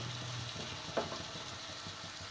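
Meat and spices sizzle steadily in a pot while being sautéed for haleem, a soft continuous frying hiss with a brief stir or clink in the middle, heard close and quiet.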